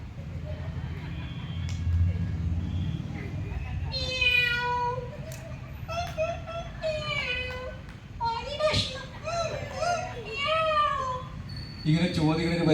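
A person imitates a cat, giving a run of drawn-out mewing and meowing calls with rising and falling pitch, voiced close by in front of a large gathering, with murmuring crowd and children's voices in the background.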